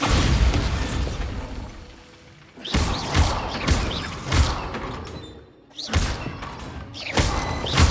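Bombarda blasting spell in Hogwarts Legacy, several heavy booming thuds and crashing impacts in separate bursts, with rumbling debris between them, loud and close.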